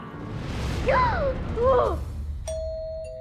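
A doorbell rings with two chiming ding-dong tones in succession, followed by a sustained electronic tone near the end, with no voices.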